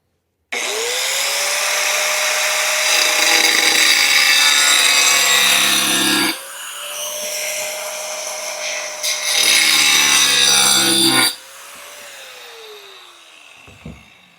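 A power saw cuts a shallow channel through a graphic on wood, guided along a plywood straight edge. It gives a loud, close, continuous whine in two long passes, a brief change between them, then spins down at the end.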